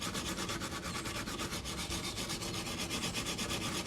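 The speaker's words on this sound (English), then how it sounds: "I use the wire brush part to get most of the heavier areas of paint off." A wire brush scrubs heavy paint off a plastic blow mold, producing a steady, dense, rhythmic scratching at close range with even back-and-forth strokes and no talk.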